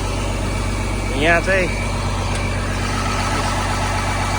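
A Cat 330 GC excavator engine idles steadily at a dig site, a constant low rumble close by, with someone talking briefly over it.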